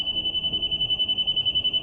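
A steady, high-pitched electronic tone from a level receiver pulses rapidly and continuously while setting grade for a concrete pour, with faint low background noise.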